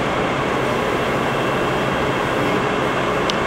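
A Poreba 31-by-132-inch heavy-duty lathe running in high gear range at the higher motor speed, producing a loud, steady broadband mechanical roar that stays constant throughout, with no voices.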